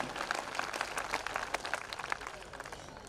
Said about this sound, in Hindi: पूरे सदन की एक बार तालियां फिर उठ जाएं